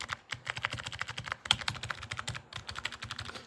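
Rapid typing on a pink MOFII wireless numeric keypad with membrane keys, a quick continuous patter of soft muted key presses, close and fairly quiet with no talking.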